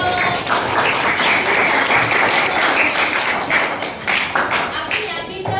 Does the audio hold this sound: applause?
yes